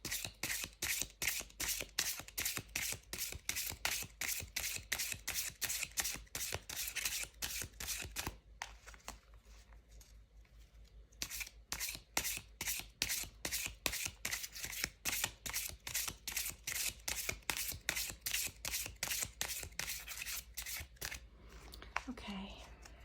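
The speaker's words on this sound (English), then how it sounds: "I'm just gonna shuffle again." Oracle cards are shuffled by hand close up, making rapid rhythmic riffling snaps that run steadily, pause briefly partway, then resume, all fairly quiet.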